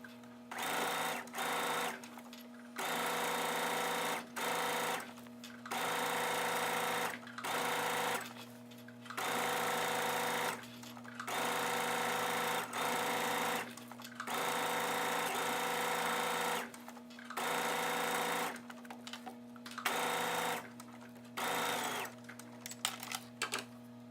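A sewing machine stitches a pajama waistband seam in repeated bursts of rapid whirring, each a few seconds long and separated by short pauses, close and fairly quiet with no talk.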